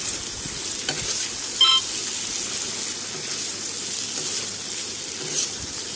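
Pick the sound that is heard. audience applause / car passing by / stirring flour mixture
stirring flour mixture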